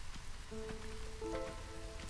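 Drizzle rain in the video game Against the Storm, a soft steady patter of raindrops on surfaces, faint and continuous, with light game tones mixed in.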